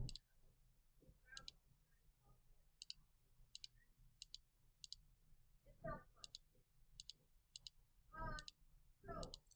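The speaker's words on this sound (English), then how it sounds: "let's go type this into our calculator" Calculator keypad presses make faint, quick plastic clicks in small irregular clusters, with quiet talk in a classroom underneath.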